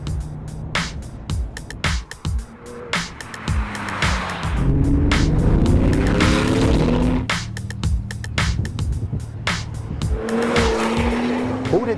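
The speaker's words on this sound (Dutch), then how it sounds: "we gaan vandaag rijden met de allerdikste, snelste en duurste 911 die Porsche ooit gebouwd heeft" A Porsche 911 GT2 sports car driven hard, with loud engine revving through rising gear pulls, sharp gear-change gaps and some tire squeal, close and powerful throughout.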